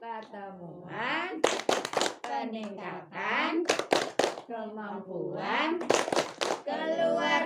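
At a family welfare program group meeting in a village, a group chants the P2K2 clap, voices rising and falling with sharp bursts of hand claps dropped in at intervals.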